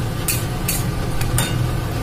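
Mustard and poppy seed paste, salted, stirred in a hot frying pan; a steady close sizzle runs throughout while four brisk scraping strokes of the spoon stand out.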